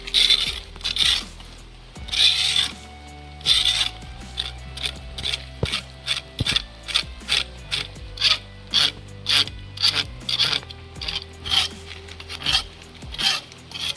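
A blade scrapes moss off the wall of a well in repeated short rasping strokes, close and fairly loud, with no talking.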